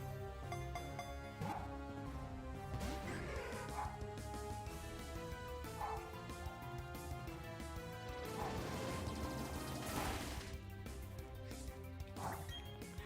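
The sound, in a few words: dog barking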